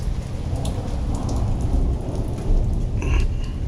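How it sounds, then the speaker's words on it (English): Steady heavy rain from a thunderstorm in Texas, a dense constant hiss of drops on surfaces with a low thunder rumble building around the middle, close and loud, no voices. "I think this storm's just about done though."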